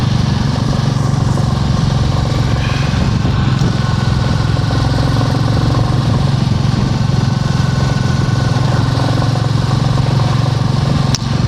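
A Royal Enfield Bullet 350 single-cylinder motorcycle rides along a spring road, its engine a loud, steady low thump with constant wind rush, heard close and alone without voices.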